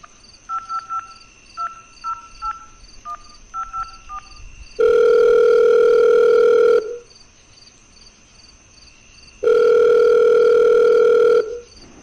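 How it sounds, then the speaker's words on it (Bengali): Telephone dialing in a Bengali suspense audio drama: a quick series of short keypad tones over a faint background hum, then two long, loud, steady dial-tone bursts separated by a brief pause. "লাবুকে একটা ফোন করে নি"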